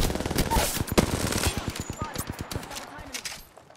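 Rapid automatic gunfire in the Apex Legends video game, a fast rhythmic burst of close, loud shots that slows and tapers off toward the end, with a player's voice talking over it.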